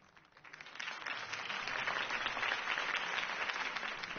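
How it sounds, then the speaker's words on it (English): A virtual crowd in the LEGO Batman video game breaks into applause after Harvey Dent's campaign speech, the clapping swelling quickly from quiet and then holding as a dense, sustained wash of hands. "could have heard that applause"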